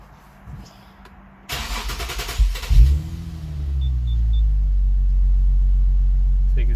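An Infiniti G37 sedan engine cranks and fires up after a fuel pump hat install, surging loudly, then settling into a close, steady idle rumble.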